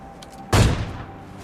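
A single loud gunshot in the PUBG Mobile Lite video game, a sharp close report with a short decaying tail.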